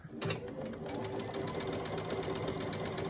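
A sewing machine runs steadily, stitching small quilt scraps together at a quarter-inch seam, its rapid even mechanical chatter continuous and close throughout.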